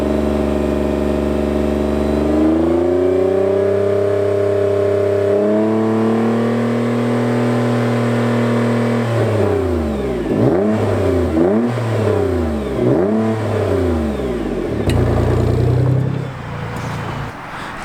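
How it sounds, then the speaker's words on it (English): A Nissan GTR on its stock exhaust is revved while stationary: a loud idle rising in steps to sustained holds, then a series of quick sharp revs blipping up and down, close and unaccompanied by talk. "We're going to do some standard exhaust noises so we can hear before and after."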